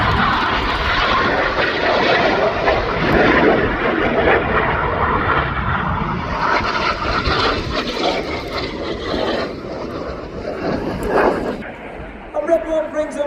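Red Arrows display jets performing the serpent manoeuvre at RIAT 2025, a continuous loud roar of jet engines sweeping overhead, with a commentator talking throughout.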